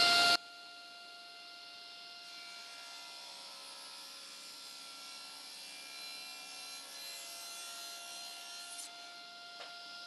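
A table saw cuts through wood for a router inlay insert, a sharp bang at the start followed by a long, even whining hum and faint rubbing that holds steady before tapering off near the end.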